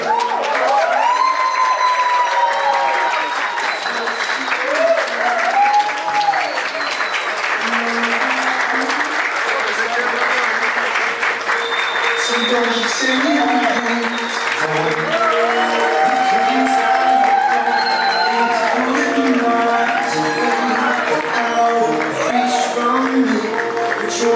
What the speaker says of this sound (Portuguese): recebam com uma grande salva de palmas o mais novo casal, Jeane e Luiz Felipe.